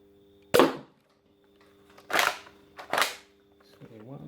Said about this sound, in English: the first 3 darts I'm going to put through it are the original Star Wars darts